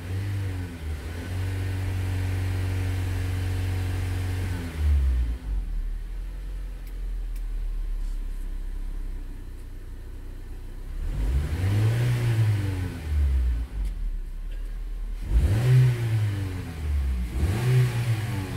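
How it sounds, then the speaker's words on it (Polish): Honda car engine idling as it warms up on a vehicle being fitted with LPG injectors, a steady low rumble broken by a few short revs that rise and fall, heard close up. "Honda fajnie chodzi."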